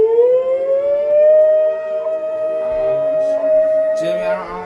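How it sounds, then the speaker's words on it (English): A loud wailing civil defense siren holds a steady rising tone, with people talking over it near the end. "Sirens go off around you."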